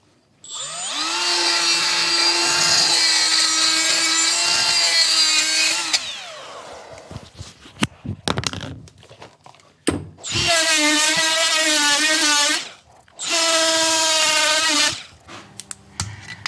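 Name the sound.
power drill with attachment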